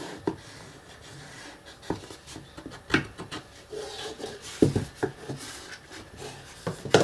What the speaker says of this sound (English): now we can bring these corners in and give that a burnish